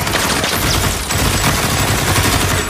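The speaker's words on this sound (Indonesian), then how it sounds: "Di saat baku tembak sedang terjadi" Gunfire in an action-film shootout: a dense, continuous barrage of loud overlapping shots and crackle filling the whole stretch without pause.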